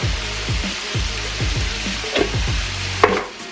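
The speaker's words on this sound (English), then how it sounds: "So I'm putting tomato sauce in with the onions and green peppers." Onions and green peppers sizzle steadily in a pan as tomato sauce goes in for stewed chicken, with repeated scraping stirs in a loose rhythm and a couple of sharper clinks, close and without speech.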